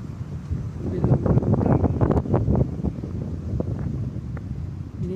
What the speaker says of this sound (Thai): นี่ลมแรงมากนะ